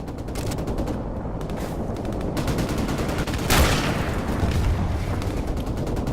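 Suppressed gunfire from Modern Warfare Remastered, firing in rapid bursts of dull, thudding shots over a dense battle backdrop, with a louder, closer burst near the middle.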